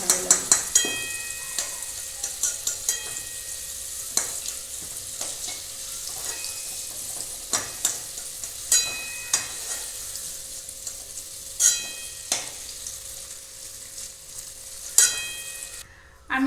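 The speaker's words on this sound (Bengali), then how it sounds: "ওই তেলেই এখন আমি কপিগুলো ভেজে" Cauliflower pieces frying in oil, a soft continuous sizzle broken by scattered sharp clinks and scrapes of a spatula stirring the pan, close up, with no talk.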